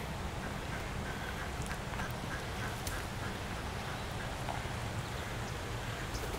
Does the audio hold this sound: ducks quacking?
yes